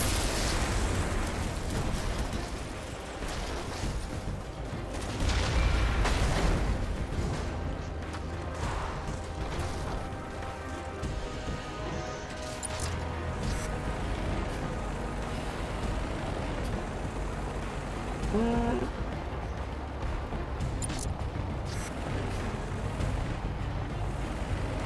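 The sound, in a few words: missile explosions in the video game Red Faction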